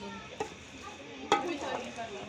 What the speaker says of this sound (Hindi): अब डालेंगे पालक और पालक को अच्छी तरह से भूनेंगे।